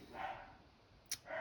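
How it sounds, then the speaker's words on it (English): A dog indoors barks at a car passing outside the door, giving two soft, muffled barks spaced apart over a quiet background, with no talk. "If you can hear the dog barking, it's because someone has just driven past the door."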